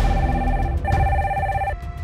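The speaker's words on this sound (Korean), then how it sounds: "회의실로 전화가 한 통 걸려왔어" A telephone rings in a department store conference room, two clear electronic ring bursts in quick succession, loud and close with no voices.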